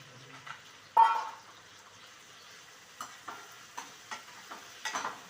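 Okra stirred and sautéing with tomato in a hot pan, a soft steady sizzle broken by a few sharp scraping stirs, close and fairly quiet with no talk.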